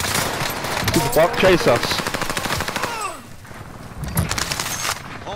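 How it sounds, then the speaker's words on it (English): Gunfire in a multiplayer shooter video game, with dense rapid bursts of automatic fire in the first three seconds, then quieter scattered shots, all under excited talk from a player. "I definitely hear people shooting."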